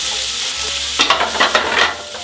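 Pork fat fries in a pan under a continuous sizzle, then a burst of scraping and turning strokes from a utensil partway through, close up and clear.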